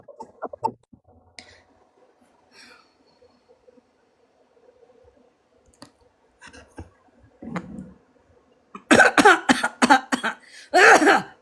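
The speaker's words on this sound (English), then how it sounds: "I had to cough there for a minute" A person coughs a few times close to the microphone, with throat sounds between the coughs. A long, nearly silent stretch follows, and then a burst of harsh, repeated coughing near the end.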